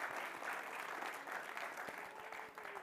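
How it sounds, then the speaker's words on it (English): An audience claps steadily at a charity gala, a dense, even round of applause heard from a distance that holds its level for the whole stretch. "So another round of applause for Emily,"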